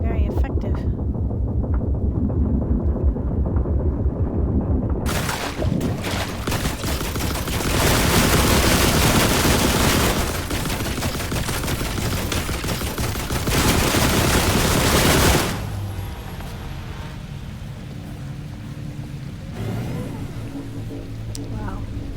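Bursts of rapid gunfire in The Last Caretaker, loud and dense for about ten seconds before cutting off to a quieter background, with a voice talking intermittently.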